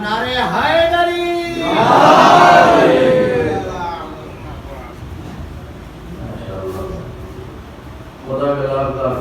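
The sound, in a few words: crowd chanting Nara-e-Haidari slogan at majlis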